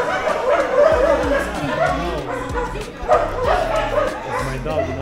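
Several dogs at an outdoor canine adoption event in Timișoara bark, yip and whimper in close, busy bursts, with people talking throughout.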